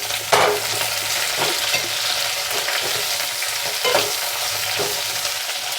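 Eggplant and carrot pieces fry in a pan for a moong dal pulusu, a loud, steady sizzle with recurring stirring scrapes every second or so, close up and with no voices.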